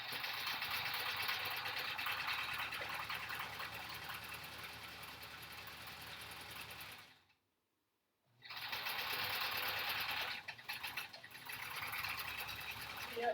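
A sewing machine runs steadily with a clunky, knocking rhythm while quilting, stops briefly, then starts again in uneven spurts.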